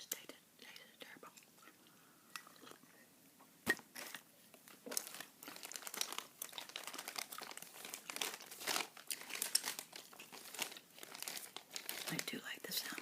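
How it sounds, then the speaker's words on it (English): Crinkly emergency food packages are handled close up, giving dense crackling and rustling bursts throughout, with a soft whispering voice underneath. "I do like the sound of the crinkly packages, though, I must admit."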